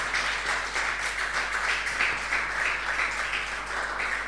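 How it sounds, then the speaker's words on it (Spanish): A church congregation applauds during a Spanish-language service, a thick, continuous rush of clapping that swells and dips in loose rhythmic waves, moderately loud and steady with a low hum underneath. "Dele un aplauso al Espíritu Santo."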